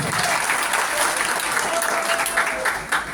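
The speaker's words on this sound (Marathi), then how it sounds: "खरं तर जोरदार पहिल्या टाळ्या झाल्या पाहिजे बापूंसाठी." Audience applause at a student oratory competition, a dense steady clapping that fills the hall at full strength for the whole stretch, with no voices standing out above it.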